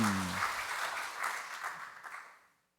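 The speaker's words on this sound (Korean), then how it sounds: "그러기에 우리 박수 한번 쳐야 되겠죠" A church congregation applauding at an Easter Sunday Mass, a dense burst of many hands clapping in a reverberant hall that swells briefly and then fades out to silence within a few seconds.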